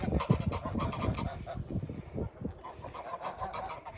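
Several geese honk loudly and insistently, their calls overlapping in a noisy, agitated chorus close by.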